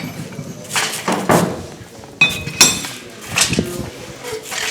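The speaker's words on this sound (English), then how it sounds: "Again, back to the utility hammer with a nearly flat base." A utility hammer with a nearly flat face strikes metal on a hatchet stake, giving several ringing metallic blows and clanks with pauses between them. Someone can be heard speaking quietly.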